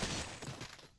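Headshot gunfire in the retro-style shooter Cultic, a short burst of loud, dense shots with a crackling, shattering edge that fades toward the end of the moment.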